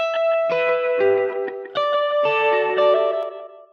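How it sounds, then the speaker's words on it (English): Slapback echo from a free tape-delay VST plugin on a synth or keyboard melody, short bright repeats trailing each note, loud and alone with no voices. "Like more slapback echo."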